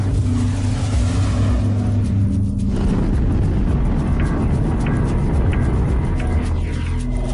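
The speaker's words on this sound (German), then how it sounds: "Das beschädigte Passagierflugzeug fliegt direkt über das Büro hinweg." A damaged Concorde passenger jet passes directly overhead an office, a loud, dense roaring rumble filling the whole clip with a shift in tone partway through.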